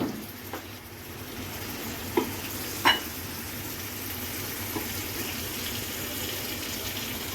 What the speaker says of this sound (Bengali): এই যে সামান্য একটু পানি দিয়ে দিলাম, মশলাটা ভালোভাবে কষাবো।